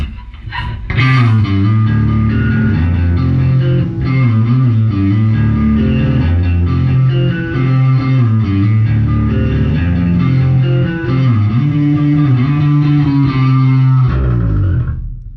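Bass guitar through a Blues Breaker clone overdrive pedal, a thick gritty tone playing a continuous riff, loud and sustained, then cutting off at the end.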